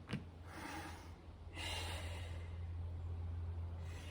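A deep breath during an advanced Pilates session: a sharp inhale followed by a long, soft exhale, faint and close over a low steady hum.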